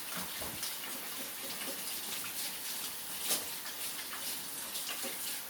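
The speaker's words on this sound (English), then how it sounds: "after I rinse my hands real fast." Tap water runs steadily in a kitchen as hands are rinsed clean of ground meat while making an Italian-style meatloaf, a soft continuous hiss with faint splashes throughout.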